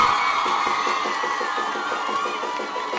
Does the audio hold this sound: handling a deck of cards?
no